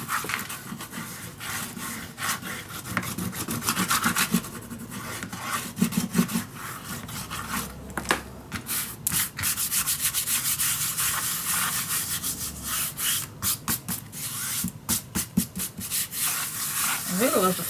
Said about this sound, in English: burnish it nice and correctly.